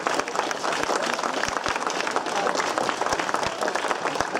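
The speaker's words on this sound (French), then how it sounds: "On applaudit Linda Mélanie Vilmussen." Audience applause at a cycling prize ceremony after the Route de France time trial, a dense, steady wash of many hands clapping throughout, with a few sharper claps standing out.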